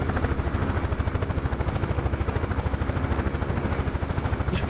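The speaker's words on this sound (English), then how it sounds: "I'll put the helicopter down," A UH-1 helicopter in a VR combat video game, its rotor thumping in a fast steady beat over a loud turbine whine, continuous and close, with no talk.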